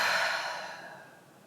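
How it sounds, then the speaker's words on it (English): One long, deep breath out during a guided healing meditation, a close, breathy exhale that starts strong and slowly fades away. "just close your eyes and then take a deep breath out."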